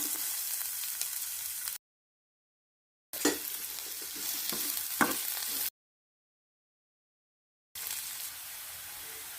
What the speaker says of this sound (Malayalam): ഇനി ഈ എണ്ണയിലേക്ക് തന്നെ സവാള ഇട്ടൊന്ന് നന്നായി ഒന്ന് വഴറ്റിയെടുക്കുകയാണ്